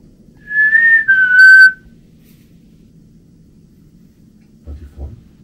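A person whistles a short two-part tune in a quiet underground catacomb setting, a clear close sustained note that slides slightly, then silence with a couple of faint knocks near the end.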